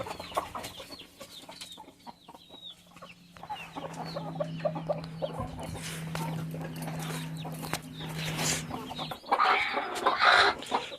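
Medak breed chickens cluck and call near the listener in a farmyard, with scattered bird sounds and a low steady hum underneath.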